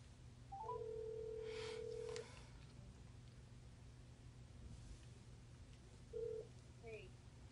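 Telephone dialing and ringing: a long steady tone, then a quieter tone later, faint and muffled under hiss and low hum.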